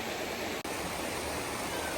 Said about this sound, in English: But we found this cool creek